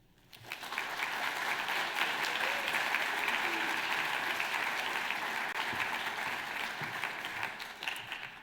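Audience applause fills the hall at a teen fashion runway show, a broad steady wash of clapping that swells in quickly and holds strong throughout, with faint voices mixed underneath.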